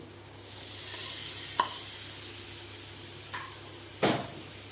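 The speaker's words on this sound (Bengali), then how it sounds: "এবার সেদ্ধ করা রাজমাটা দিয়ে কষিয়ে নেব" Boiled kidney beans fry in a pan with cooked-down spice paste for rajma curry, giving a steady, moderately loud sizzle with a few sharp utensil clinks and a scrape near the end.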